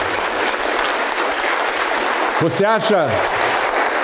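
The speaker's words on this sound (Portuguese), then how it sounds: "vamos aplaudir ao nome do Senhor" Congregation clapping at a church service, a continuous wash of applause throughout, briefly overlaid by a voice calling out over it partway through.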